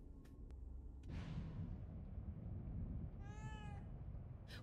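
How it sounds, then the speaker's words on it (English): A cat meows once, clear and mid-distance, in The Evil Within 2 video game, over a low rumbling ambient drone. "I can't pet the cat."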